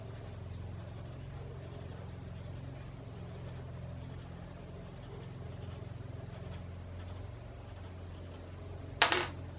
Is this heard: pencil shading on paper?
yes